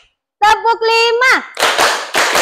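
Classroom students clap a counted unison pattern after an economics teacher's cue: a burst of voices chanting, then several loud, sharp group claps in quick succession, close and crowded.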